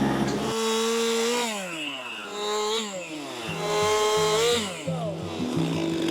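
A chainsaw roars up close, its engine pitch rising and falling repeatedly as it bogs down and revs while cutting through a tree limb.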